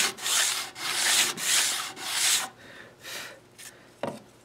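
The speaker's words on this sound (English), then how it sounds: "I'm gonna use this little tool I made. It's just a piece of 150 sandpaper, double stick tape to a piece of MDF" A 150-grit sandpaper block taped to MDF scrubs super glue off guitar fretboard binding, steady rhythmic back-and-forth rasping strokes up close, slowing and fading toward the end.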